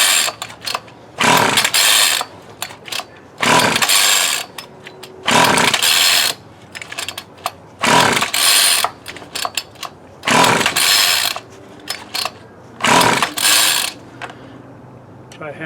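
A Homelite ST-285BC gas string trimmer is pull-started again and again, each tug giving a loud, close rasping burst of recoil and engine sputter, roughly a dozen pulls in uneven rhythm with short pauses between, never catching.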